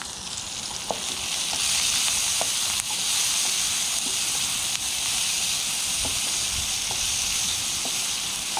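Onions and garlic sizzle in a pan over a camping stove fire on a city balcony, a steady loud frying hiss with occasional soft pops and stirring clicks, no voices.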